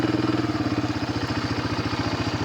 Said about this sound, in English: I'm going to attempt to start down the road on this four-wheeler